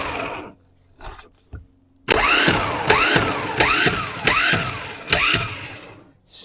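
A rebuilt Land Rover 300 Tdi starter motor runs on a bench in a few short bursts, then spins steadily with a rhythmic pulsing whir up close. There is no talk.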